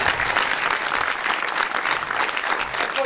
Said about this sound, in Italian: Quindi un applauso particolare a tutti.